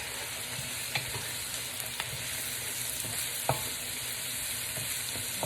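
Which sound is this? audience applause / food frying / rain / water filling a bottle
food frying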